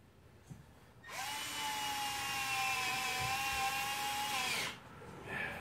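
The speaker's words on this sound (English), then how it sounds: "I'll put one screw in here" A power drill driving a screw, a single steady whirring run of about four seconds at constant pitch, close and loud, starting and stopping abruptly with quiet before and after.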